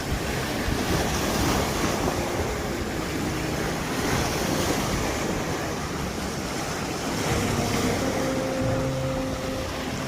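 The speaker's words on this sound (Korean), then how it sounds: "혹시 그 유명한 너울파도" Swell waves roar and wash against a rocky seashore under heavy wind buffeting the microphone, with a faint engine hum later on.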